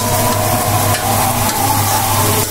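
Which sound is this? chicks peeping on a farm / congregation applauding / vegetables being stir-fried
vegetables being stir-fried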